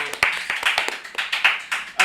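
A small audience at an Indonesian hip-hop chat gives a short burst of rhythmic hand claps, sharp and fairly close, with a voice talking over them.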